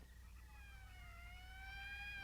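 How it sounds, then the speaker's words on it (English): A faint siren wails from far away in a 1959 film, its tone slowly sliding up and down over a low steady hum. "That's the 5th siren in the last hour."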